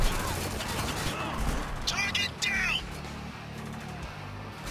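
Gunfire while shooting enemies in the video game Spec Ops: The Line: a dense, continuous rumble of shots and booms with brief whistling zips in the middle, loud and steady throughout.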